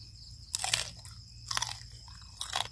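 Crispy pork head is bitten into three times, each bite a loud, close crunch with crackling texture, spaced about a second apart over a low background hum.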